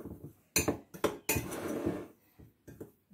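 Dry muffin mix of mealie meal, baking powder and sugar stirred in a bowl, a spoon clinking and scraping against the sides in several close, uneven bursts with short pauses between.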